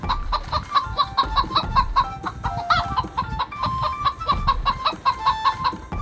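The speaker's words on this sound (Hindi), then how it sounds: "हैन की साउंड बताओ कैसी होती है?" Hen clucking in a quick, repeated series of short clucks, close and clear, with a brief squawk partway through and no other voices.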